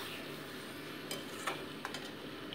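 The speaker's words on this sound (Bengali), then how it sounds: "আমি এটাকে 2 মিনিটস করে কষিয়ে নিচ্ছি" Spiced masala for a duck egg curry being sautéed in a pan, a soft steady sizzle with a few sharp scrapes and clinks of a spatula against the metal, close and fairly quiet, no voices.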